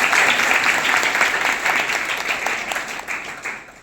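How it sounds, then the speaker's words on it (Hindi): Audience applause fills a hall at a Beti Bachao Beti Padhao gathering for children, a dense, sustained patter of many hands clapping that gradually fades toward the end, with no one speaking over it. "एक बार अपने लिए आप जोरदार तालियों से अपना स्वागत करें।"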